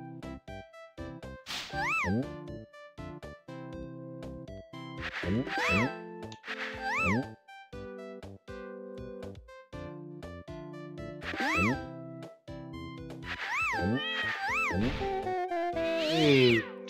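Stylized cartoon cat meows from the video game sCATch: The Painter Cat, several bright rising and falling calls spread over game music with tonal chimes, loud and close with no talk.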